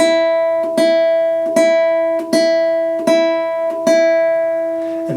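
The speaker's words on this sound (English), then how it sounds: "Let's alternate between the index and the middle finger, which sounds like this." A single guitar string is plucked repeatedly with alternating index and middle fingers, giving seven evenly spaced, ringing notes on the same pitch, clear and close with no talk.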